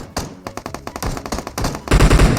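Gunfire in the mobile battle royale game PUBG Mobile, a run of rapid automatic shots in uneven bursts, loud and close, growing heavier toward the end.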